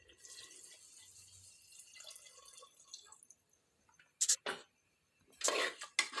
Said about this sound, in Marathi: आता यात लागेल तेवढं पाणी ओतून घ्या